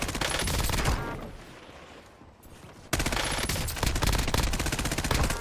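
Sustained automatic fire from an AR-style rifle in the video game Warzone, loud dense bursts that drop away briefly midway before a fresh rapid burst resumes and continues to the end.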